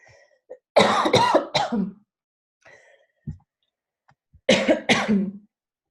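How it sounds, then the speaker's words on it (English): Two separate fits of harsh, close coughing, each a cluster of three or four rapid coughs, with a quiet breath and throat sound between them. "I cannot stop coughing tonight, you guys."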